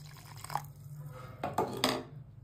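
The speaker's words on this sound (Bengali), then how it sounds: "এখানে এবার হাফ বাটির মতো জল এর মধ্যে অ্যাড করে দিচ্ছি" About half a bowl of water is poured into rice-flour batter in a jar for chitoi pitha, producing a few faint, close splashes and trickles with no talking.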